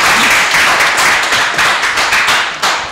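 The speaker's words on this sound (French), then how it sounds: "I want you to give a big hand to the Lord." Congregation clapping at a church conference: dense, steady applause filling the whole stretch, loud and close, with many overlapping hands and occasional sharper bursts.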